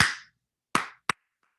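Hands clapping a short rhythm in a music theory lesson: three sharp, close claps, the first two spaced evenly and the third following quickly, with a faint fourth tap and silence between.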